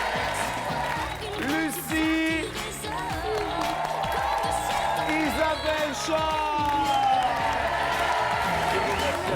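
Studio audience of a French TV game show applauding and cheering the contestants, a steady roar of clapping and whoops running the whole time beneath a host's voice talking and a singer chanting along.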